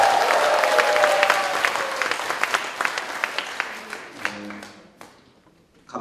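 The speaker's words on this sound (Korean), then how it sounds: "한번 크게 박수 한번 쳐주십시오" A large audience at a district office gathering claps loudly and steadily, a dense wash of applause that thins and fades away toward the end.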